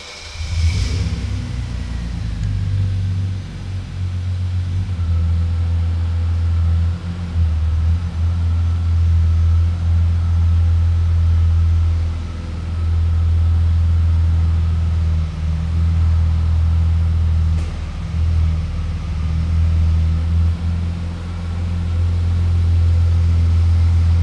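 A car's engine runs steadily close by as it is driven into position in a detailing shop, a continuous low rumble holding for the whole stretch with slight swells and no voices.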